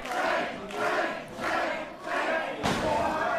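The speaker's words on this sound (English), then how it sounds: "You hear the crowd chanting for him." A wrestling crowd at a tag-team match chants in a steady rhythmic pattern, loud surging phrases repeating about every 0.7 seconds, filling the arena with no clear talk over it.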